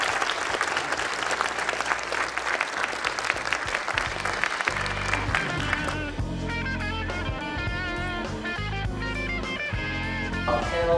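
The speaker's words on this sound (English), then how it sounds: "Give them one more round of applause." Strong audience applause for panelists at a film and music festival, dense and lively for roughly five seconds before music takes over and carries on to the end.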